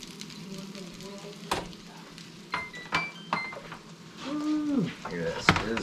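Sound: fish sizzling while frying in a hot pan

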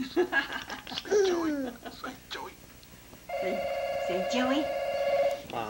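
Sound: telephone ringing

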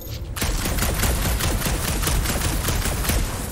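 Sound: shooting in Guardians of the Galaxy video game

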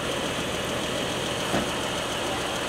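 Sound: manual car engine running while learning to drive

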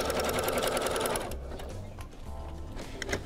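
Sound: overlock serger machine sewing around fabric edges

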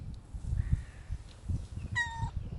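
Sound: cats meowing, group of cats fighting

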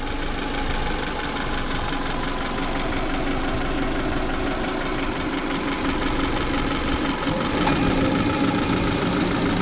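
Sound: car engine idling with knocking

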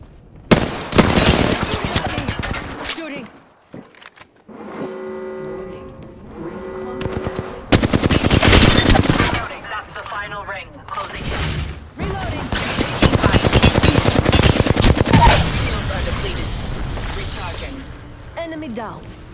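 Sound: gunfire in Apex Legends video game

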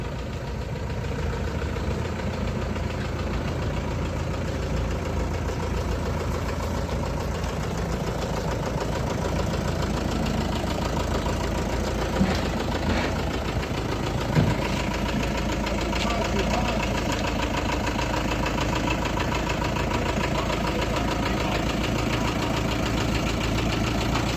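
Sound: LOVOL 454 tractor engine idling

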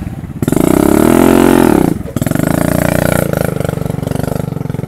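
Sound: motorcycle riding

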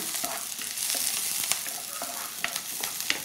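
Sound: shallots sautéing in oil while being stirred

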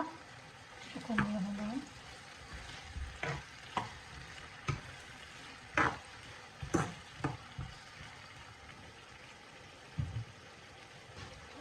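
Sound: pomfret fish frying in a pan

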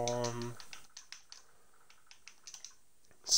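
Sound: typing a Minecraft command on a computer keyboard

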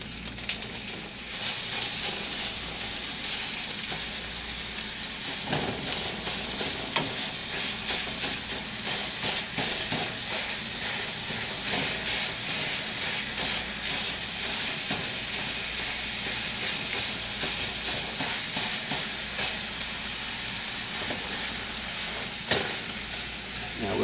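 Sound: sausage frying in pan, broken into small pieces

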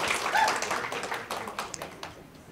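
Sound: audience applause

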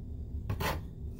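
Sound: bench scraper moving sliced zucchini onto a dehydrator tray

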